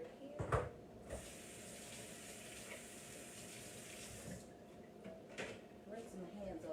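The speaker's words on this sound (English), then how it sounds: "Rinse my hands off." Water runs from a tap into a kitchen sink while hands are rinsed, a steady moderate rush bracketed by knocks and clunks at the start and end.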